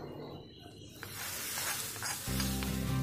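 Curry leaves and red chillies go into hot oil for a sambar tempering, a steady hiss that swells into a louder crackling sizzle near the end, close and with no talk.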